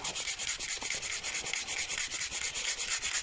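Sanding by hand, with steady rhythmic back-and-forth scratchy strokes, several per second, close and fairly quiet, with no talking.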